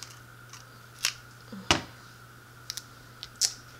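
Small piece of tape pulled off for card making, with quiet clicks and a short sharp tear up close, followed by a few light snips and taps over a faint steady hum.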